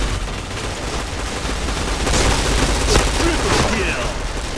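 Dense gunfire from the PointBlank shooter game, fast rattling volleys and booming shots blended into a thick, continuous roar of battle effects, with in-game voice sounds mixed in.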